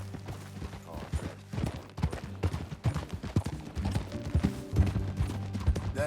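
Horse hooves clip-clop steadily at a ridden pace in the Western video game Red Dead Redemption 2, the uneven thuds sitting close and prominent over a low musical bed, with no talk.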